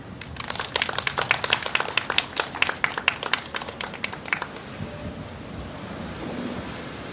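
Audience applause at an outdoor candlelight rally against THAAD in Gimcheon, a burst of brisk, loud clapping from a crowd that fades after several seconds into open ambient noise.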